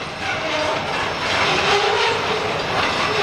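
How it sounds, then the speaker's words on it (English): A train rumbles past in a steady, broad roar with a faint rhythmic clatter of wheels, loud and continuous throughout. "another short train"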